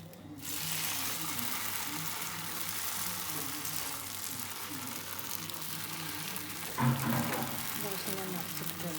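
A jackfruit maida dosa cooks in ghee on a pan, giving a soft, steady sizzle throughout with a brief clatter near the end, while a person talks over it.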